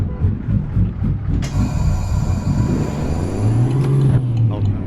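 A heavy truck drives in Euro Truck Simulator 2, a steady low engine rumble throughout with a brief air-brake hiss near the start and a faint rising whine later, loud and close, with no voices.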